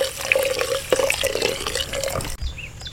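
Water is poured into a cooking pan with a continuous splashing rush for a few seconds while making fish curry, then cuts off abruptly near the end.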